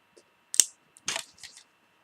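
A small plastic Power Rangers Time Force key toy drops onto a hard surface, giving a few quick, sharp clicks and clatters close to the mic in an otherwise quiet room.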